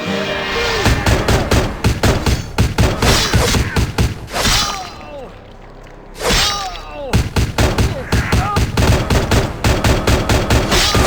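Rapid bursts of automatic gunfire in the vampire RPG Vampire: The Masquerade - Bloodlines, loud and close, broken by brief pauses around the fifth and seventh seconds before the volleys resume.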